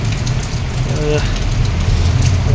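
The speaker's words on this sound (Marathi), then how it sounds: "एवढा बघा पाऊस बघा" Heavy rain pours down steadily outdoors, a dense continuous hiss with a low rumbling undertone, loud and unbroken throughout.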